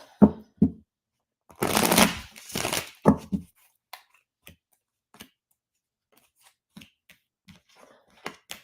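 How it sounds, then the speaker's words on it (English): Tarot cards being shuffled up close: a few quick riffling bursts, then sparse soft taps and flicks of the deck as it settles. "One more quick shuffle."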